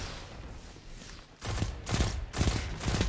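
Syncopation-53 pulse rifle firing in the Destiny 2 video game, heard as several loud, closely spaced bursts of gunfire in the second half, following a quieter stretch of game ambience.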